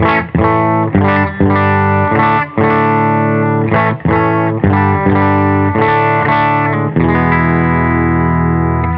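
Electric guitar through a Catalinbread Epoch Bias preamp pedal into a Benson Amps Monarch Reverb Plus amp, with a light overdriven edge, chords strummed in a steady rhythm, ending on a long ringing sustained chord.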